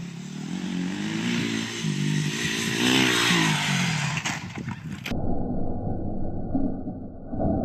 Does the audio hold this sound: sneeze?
no